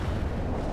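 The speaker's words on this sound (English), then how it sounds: "Artillery strike requested before an enemy" Distant artillery strike in the World in Conflict battle game, a low continuous rumbling of shell impacts rolling on without distinct separate blasts.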